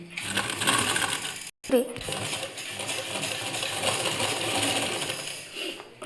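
A sewing machine stitches piping onto a blouse lining, its needle running in a steady, close rattling drone that breaks off for a moment and then resumes at an even pace, with no voice over it.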